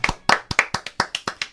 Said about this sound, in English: Come back to applause.